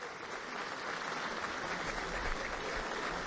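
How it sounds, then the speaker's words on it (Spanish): Steady, dense applause from the Chavín de Huántar commandos and guests at a ceremony marking the operation's 20th anniversary, holding at an even level throughout with no break. "Reciben los aplausos tanto del comando Chavín de Huántar como de los invitados."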